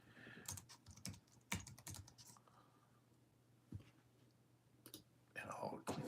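Someone types on a computer keyboard in short, irregular bursts of clattering keystrokes, close by and fairly quiet, while a person talks in between.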